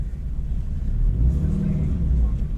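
A Toyota 86 GT sports car accelerating on an autocross course, a loud, steady low engine rumble that swells and holds for a few seconds.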